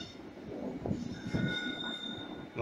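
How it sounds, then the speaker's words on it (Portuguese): A train pulls into a small old railway station, metal wheels squealing in thin high whines over a low rumble of the cars, heard at a moderate distance with no one talking. "Olha o trem chegando ali."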